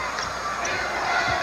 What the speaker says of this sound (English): you can feel the intensity of the crowd starting to pick up a little bit here in the second half